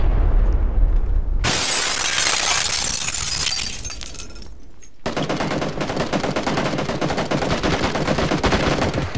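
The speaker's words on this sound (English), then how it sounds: "he's shooting me" Heavy gunfire and shattering from a PUBG battle, loud continuous bursts of rifle shots with breaking glass, a brief pause near the middle, then dense rapid automatic fire to the end.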